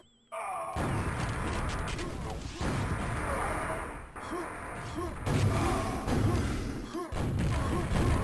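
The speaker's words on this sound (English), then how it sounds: "Dot just hit two grenades straight to the face of OK98 and then finished him off with a boomstick" Heavy thuds and blasts from grenades and a boomstick shotgun in a competitive Quake match, several loud impacts over constant game noise with commentary voices underneath.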